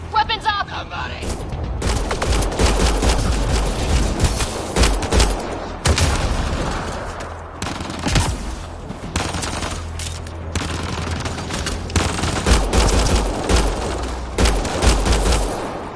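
Rapid automatic gunfire and heavy bursts in Mass Effect: Andromeda combat, loud and dense with pauses between volleys, while voices call out over the shooting.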